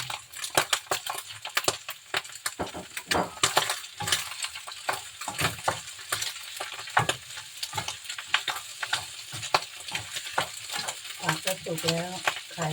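Thick noodles with ham are stir-fried in a pan, with a loud sizzle broken by rapid, repeated scraping and clinking strokes of a utensil in an uneven rhythm, close up and with no talking.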